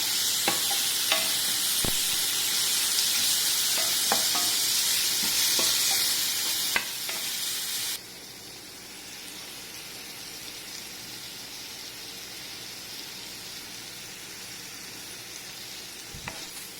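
Chili and turmeric sizzle loudly in a hot pan for dal fry, with scattered stirring clicks; the frying hiss is strongest for the first half and then settles to a quieter, steady sizzle.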